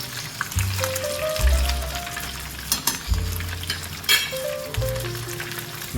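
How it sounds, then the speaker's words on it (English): Fish frying in an uncovered skillet for brown stew fish, a close, steady crackling sizzle with occasional pops and faint utensil knocks, no talking. "Yeah, so I'm gonna allow them to continue to fry."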